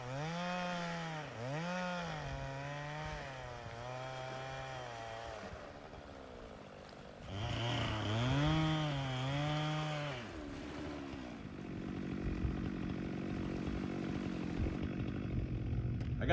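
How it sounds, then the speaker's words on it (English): A chainsaw cutting driftwood for a mantel, its engine revving in long rising and falling pulls near and loud, dropping briefly between cuts before a rougher, steadier cutting stretch at the end. "I'd recommend just doing it with a chainsaw and getting it close."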